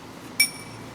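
A glass struck once as a debate timekeeper's signal: a single short, bright clink that rings briefly and fades over quiet room tone.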